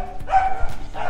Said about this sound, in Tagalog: Ang ingay ng aking mga aso.